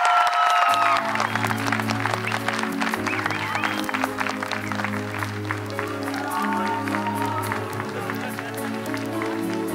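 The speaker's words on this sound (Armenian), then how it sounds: "Ծափարություններ" Applause from a concert audience at a song premiere finale, a dense, continuous clatter of clapping over sustained musical tones, loud and steady throughout.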